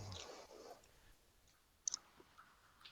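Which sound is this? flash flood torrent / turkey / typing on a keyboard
typing on a keyboard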